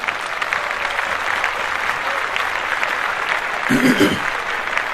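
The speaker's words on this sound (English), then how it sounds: "Clap that up." A studio podcast audience breaks into steady, even applause that holds for several seconds, swelling slightly toward the end.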